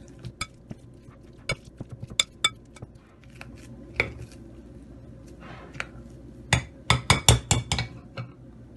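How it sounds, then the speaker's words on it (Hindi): Boiled potatoes being mashed in a pot or bowl for aloo cheese balls, a series of sharp metallic knocks and scrapes of the masher against the vessel, sparse at first, then a quick cluster of loud hits near the end. "इनको मैश कर लेंगे।"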